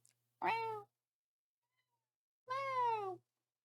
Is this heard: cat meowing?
yes